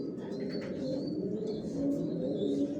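Pigeons in a breeding loft give a steady low cooing murmur, mid-distance and continuous, with faint higher chirps scattered over the top.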